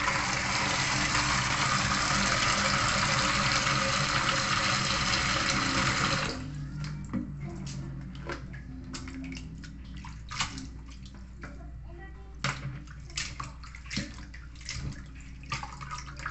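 Seaweed is rinsed under running water, a loud steady gush of water for several seconds that cuts off and leaves scattered splashes and drips as it is handled.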